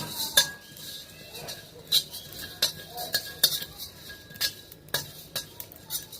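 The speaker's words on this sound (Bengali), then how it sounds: "শুকনো কড়াইতে এটাকে একটু ভেজে নেব আমরা।" Two spoons each of coriander and cumin seeds dry-roast in a dry kadai over low to medium heat. A spatula scrapes and clinks against the metal pan in intermittent knocks, close and moderately loud, with no talking.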